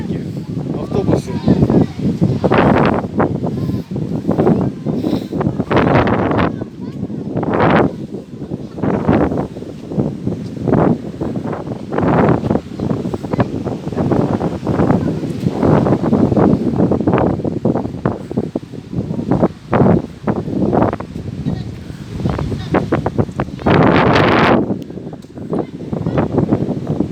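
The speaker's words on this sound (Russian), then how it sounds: "Все задувает, да? Ветер. Я рукой уже держу микрофон." Strong gusting wind by the stormy sea at Arkhipo-Osipovka buffeting the microphone in loud repeated bursts, with a person speaking throughout.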